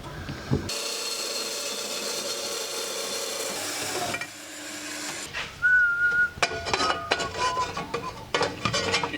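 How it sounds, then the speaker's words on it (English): A person whistles a tune in short melodic phrases amid workshop clatter and scraping, with a steady rasping noise earlier. "Do you realise you're whistling"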